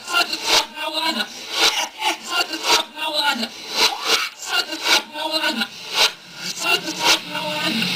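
A song played in reverse: choppy, warbling sounds with garbled vocal-like syllables and swelling, backward-sounding attacks pulse unevenly throughout.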